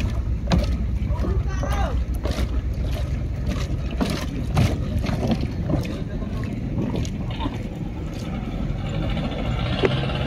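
Water sloshing and a small boat creaking and knocking against the surface during island hopping in Honda Bay, Puerto Princesa, Palawan, with wind buffeting the microphone and voices talking nearby throughout.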